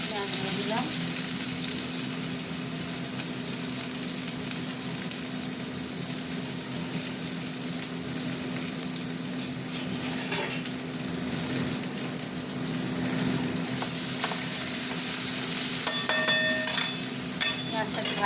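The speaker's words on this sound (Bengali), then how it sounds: "পেঁয়াজটা একটু ভাজা ভাজা হোক" Onions sizzling steadily in a hot pan while cooking an okra curry, a dense continuous frying hiss with occasional stirring clinks, fairly close and with no talking.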